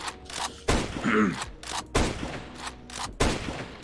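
Gunfire from a video game, with several loud sharp bursts spaced irregularly across a few seconds and a brief groan-like vocal sound between them.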